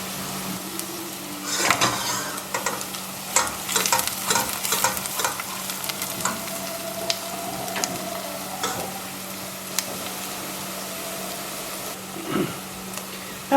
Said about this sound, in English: now I'm going to turn my heat back on and start to fry these onions